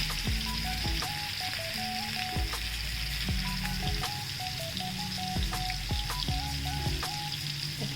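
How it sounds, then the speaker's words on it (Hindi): Raw keema kababs fry in hot oil on a flat tawa, giving a loud, steady, close sizzle that runs without a break, with a soft melodic tune playing in the background. "ये मैंने तवे पे ही ऑयल डाल दिया था और इसको गरम कर लिया था ऑयल मैंने अच्छे से, और इसको मैं यहाँ फ्राई करूँगी।"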